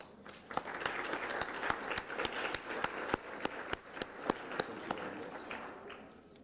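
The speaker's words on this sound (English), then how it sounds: "could we have a nice round of applause for the Peppermints?" An audience at a school foundation dinner applauds, a soft, fairly distant patter of clapping with several sharp individual claps standing out, lasting several seconds.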